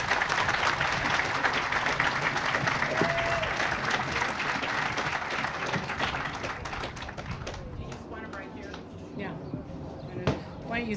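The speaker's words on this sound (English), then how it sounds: "let's give them a round of applause" Hamilton School student council applauded by a crowd at an apartment grand opening, sustained clapping that thins out toward the end, with voices mixed in.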